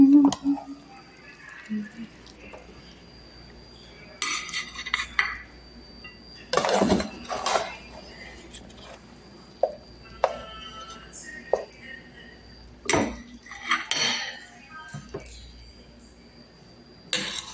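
Dishes and cutlery clink and clatter as red rice and salad are plated for two, with repeated sharp knocks of plates and utensils and soft handling noises while someone speaks.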